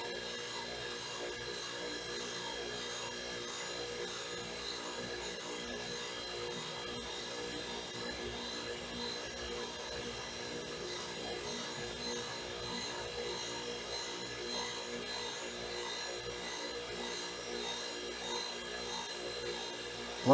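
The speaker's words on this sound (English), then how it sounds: "I'm just going to let it spark out, do a really nice soft grind." Soft, steady grinding of a metal balancing arbor part as it sparks out, a faint continuous rasping hiss with a gentle rubbing texture that holds even and unbroken throughout.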